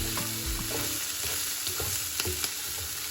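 Garlic and ginger frying in a pan for fried chicken gizzards, a steady close sizzle with a few stirring scrapes and light knocks, no voices.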